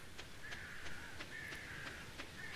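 In the farming game Stardew Valley, a crow-like bird caws several times in an even rhythm over a steady ambient bed, faint and with no talk.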